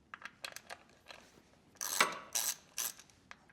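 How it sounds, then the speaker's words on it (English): A ratchet fitted with a T27 Torx bit loosens the screws of an access cover on a Harley Springer Softail. It gives a series of close, quiet clicking bursts, with louder rasping ratchet runs near the end. "we're also going to take a T27 Torx bit, take that thing off"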